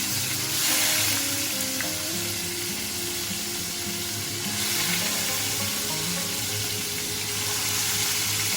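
Yogurt-marinated chicken cooking in a pan, with a loud, close, steady sizzle and occasional stirring scrapes running the whole way through over faint background tones, and no speech.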